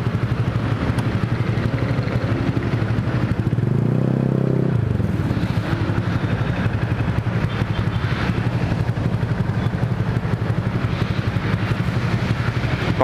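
A Honda Vario 150 scooter fitted with an F2Racing CL Long exhaust rumbles steadily and close while being ridden on the road. A brief deeper surge comes midway, with wind and road noise throughout.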